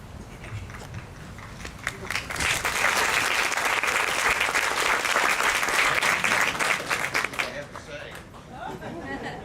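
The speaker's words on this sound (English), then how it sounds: "I guess that's the only way I'm going to get applause" An audience at an Army major general's military retirement ceremony breaks into applause that swells to a full, steady clapping before tapering off, with a voice speaking faintly underneath.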